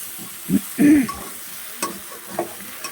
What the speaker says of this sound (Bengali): এবার এটাকে ভালো করে কষাই করে নিতে হবে, ভেজে নিতে হবে